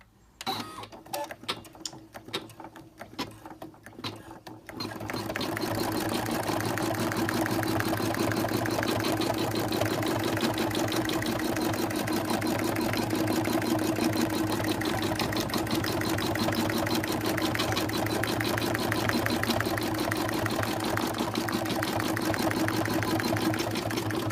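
A Brother PE 770 embroidery machine stitches at a low speed, opening with a few irregular clicks and then settling into a continuous close mechanical hum threaded with a fast even ticking of the needle, with no talk.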